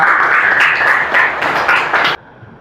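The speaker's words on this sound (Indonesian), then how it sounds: "tepuk tangan untuk Rahma ya" An audience applauds for Rahma at a school gathering, a dense, steady burst of clapping that runs for about two seconds and then cuts off abruptly to quiet.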